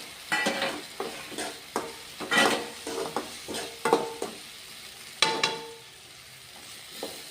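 Cooked drumsticks (moringa pods) stirred into a sizzling pan for a drumstick palya, with repeated scraping stir strokes and clinks against the pan over a steady frying hiss, close and fairly loud, no talking.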